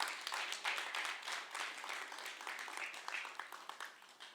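A church congregation applauds at a discipleship class, with fairly faint, dense clapping from many hands that swells and dips in waves and fades toward the end.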